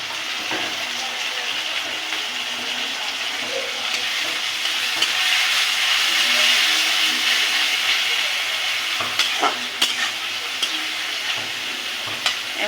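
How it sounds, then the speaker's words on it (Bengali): Small dried powdered shrimp frying in a pan, a continuous loud close sizzle with occasional scraping stirs and clinks near the end, no speech over it. "আমি এখন এর ভিতরে চিংড়ি মাছ দিয়ে দেবো।"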